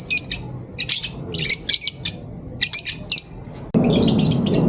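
Pet birds in a shop chirp and squawk in quick, repeated bursts of shrill calls with brief gaps, loud and close, over low background noise that swells near the end.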